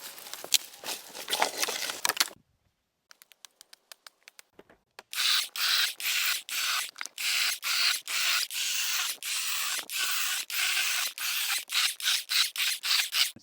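Firewood logs get gathered and handled outdoors, with rough wooden rubbing and scraping, a short quiet gap, then a run of repeated close scuffing strokes in an even rhythm.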